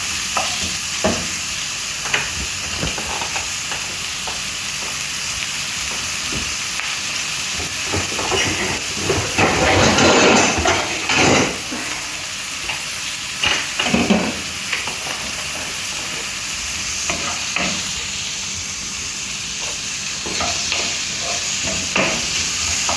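Ground beef sizzles and hisses steadily in a hot pan, with stirring scrapes and occasional louder bursts of steam, heard close up with no talking.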